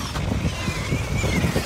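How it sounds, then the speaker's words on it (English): Strong outdoor wind buffets the microphone in a continuous, loud, rumbling roar with gusty fluctuations throughout. "So much wind."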